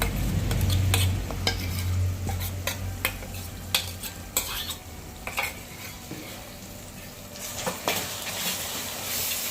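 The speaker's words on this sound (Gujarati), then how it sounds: "હવે આપણે આને સાતળશું અને થોડું વ્યવસ્થિત હલાવતું રહેવું." Spiced yogurt mixture for Kathiyawadi olo sautéing in a pan, with steady close stirring scrapes and clinks of a spoon against metal over a soft sizzle, busiest in the first few seconds, no voices.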